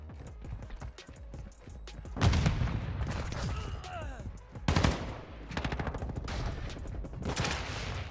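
Rapid bursts of fake gunfire from a decoy grenade in Modern Warfare 2 multiplayer, loud staccato volleys in several separate bursts over constant game noise, with a player's voice talking now and then.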